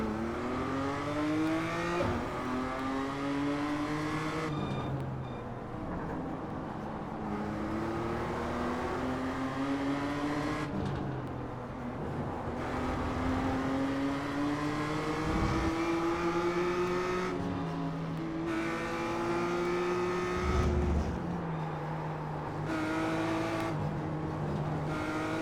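Several BMW M2 race car engines rev and roar together at a standing race start in the iRacing simulator, a dense layered drone of climbing and shifting engine notes that continues loud and steady throughout.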